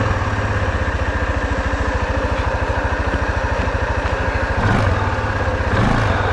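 A Grizzly ATV engine running at a steady, close, rumbling idle with even pulsing throughout and slight revving swells near the end.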